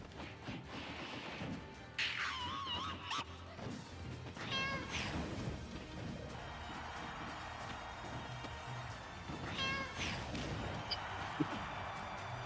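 A cat meows in the video game Elden Ring Nightreign, two or three short rising mews spread across the clip amid game effects and a soft thud.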